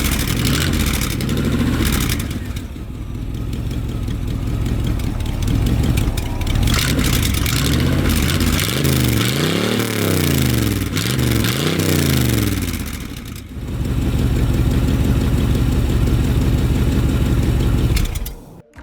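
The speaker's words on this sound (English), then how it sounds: "I built this side exhaust, and I think it actually looks pretty cool, and it sounds pretty cool." A 1994 Jeep Wrangler YJ with a V8 and a catless side exhaust, revving loudly and repeatedly over an idle, with rising and falling engine sweeps and a sudden cut at the end.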